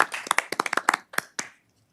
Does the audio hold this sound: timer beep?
no